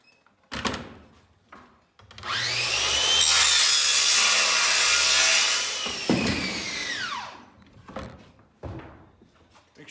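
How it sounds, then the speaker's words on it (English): An aluminum pocket door track is sawn through, with a sustained, harsh, close cutting screech lasting several seconds, framed by scattered knocks and clatter before and after. "Now I'm going to cut the aluminum track."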